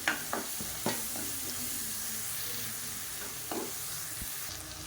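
Egg thokku masala sizzles in a pan while a utensil stirs and scrapes, giving a few sharp clinks over a steady frying hiss, close by and with no speech.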